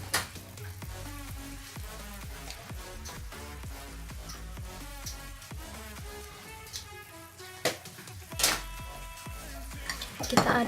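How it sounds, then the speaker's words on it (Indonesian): Soy sauce chicken stirred in a hot pan, Taiwanese-style, with steady sizzling frying under repeated scraping and clinking of a utensil against the pan, close and continuous, with sharper knocks near the end. "Kita aduk-aduk biar rata."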